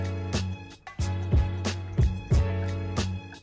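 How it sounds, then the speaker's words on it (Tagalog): Turn signal tone inside a 2024 Toyota Veloz 1.5 V CVT, a steady repeating ticking chime of about six even pulses over a sustained background tone, close and fairly loud with no talking. "pero nababago rin yung tunog ng signal light natin."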